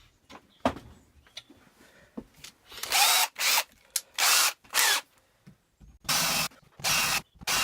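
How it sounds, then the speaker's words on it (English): A power drill countersinks screw holes in a homemade zero-clearance table saw insert, a series of short loud whirring bursts close by, separated by brief pauses and light handling clicks. "I'm then going to countersink them so the head of the screws are flat so they don't get in the way"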